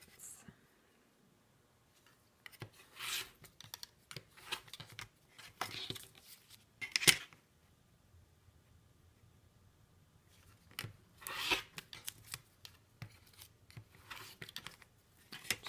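Scissors cut paper pieces for quilt paper piecing in close, intermittent bursts of snips and paper rustling, separated by quiet pauses, with a faint murmuring voice at times.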